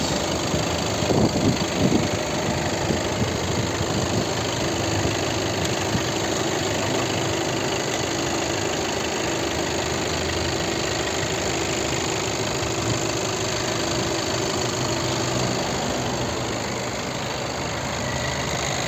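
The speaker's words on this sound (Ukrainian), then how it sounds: "Тут треба просто послухати, як працює двигун. Притому він дизельний, його не чуть." A 2017 Audi A3 2.0 TDI diesel engine idles steadily, droning low and evenly throughout, with a faint knocking rattle and no voices.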